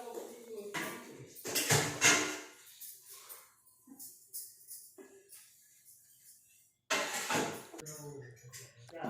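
Dishes, pots and pans being washed and stacked in a home kitchen, with scattered clinks and clatters of cutlery and crockery in irregular bursts, some louder clusters, and a voice speaking at times.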